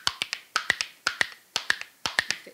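Spoons tapped against the leg play a steady, repeating rhythm of crisp, close clicks in short grouped bursts, with heavier accented strikes standing out; no talking.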